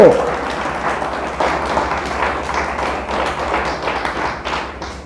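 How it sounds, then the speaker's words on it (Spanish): A church congregation claps during a sermon, a dense, steady wash of applause lasting throughout, with a low rhythmic thumping beneath and faint voices mixed in. "Dele fuerte el aplauso."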